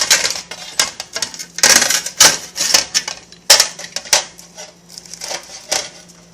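A baked pizza is cut into pieces, producing a quick series of sharp, crisp crunching clicks at close range, irregular and separated by short pauses.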